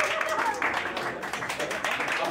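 Audience applause from a live improv theater crowd voting on a scene option, a dense steady wash of clapping lasting a couple of seconds with faint voices mixed in.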